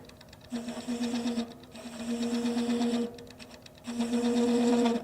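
A cutting tool chatters while hand-cutting a thread into acrylic, giving a buzzing, tonal machine whine that comes in three sustained bursts with short quieter gaps between, steady and fairly close, with no talking.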